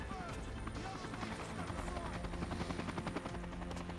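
A helicopter in the video game Dead Island Riptide beats with a fast, steady rotor chop throughout, held under continuous talk from the players.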